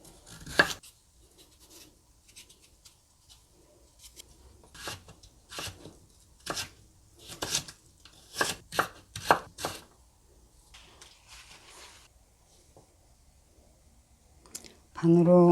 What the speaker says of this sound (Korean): 이거는 잘라줄게요.